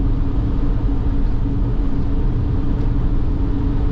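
Several cars pass on a Wyoming highway between La Barge and Green River, a steady loud road rumble and engine drone heard from inside a moving vehicle, with no break in the noise.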